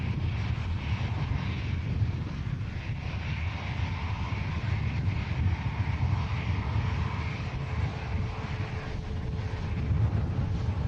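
Ryanair airplanes at Manchester Airport, one departing and one arriving, give a continuous low engine roar with steady rumble and wind buffeting, distant and even throughout without any voices.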